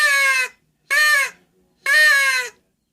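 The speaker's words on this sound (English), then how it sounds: "The reason the crow call is so annoying is because of this sound." A crow call locator used for turkey hunting blows three loud, harsh caws, each about half a second long, separated by short pauses.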